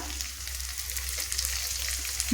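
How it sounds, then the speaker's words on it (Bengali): Sliced onion, whole green chillies and ginger-garlic paste frying in a pan of oil, a soft continuous sizzle with faint bubbling spits over a low hum, no voices. "আদা রসুনটাকেও আমি সুন্দর করে ভেজে নেব"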